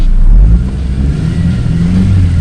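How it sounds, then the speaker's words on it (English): A Mercedes C180 Kompressor 1.8 W203 engine revs up with a loud low rumble, then settles into a steady, rough drone close by. "Listen to the engine."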